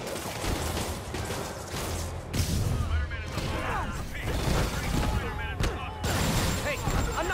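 Gunfire in the Spider-Man PS4 video game during free-roam combat, with dense bursts of shots, booms and mechanical clatter running the whole time over loud game noise, mixed with voices speaking.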